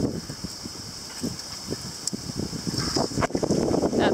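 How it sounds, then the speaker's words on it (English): Wind buffets the microphone in gusty, rumbling bursts over a steady hiss near waves by the water, close and fairly loud, with scattered knocks and splashes. "Listen to that wind."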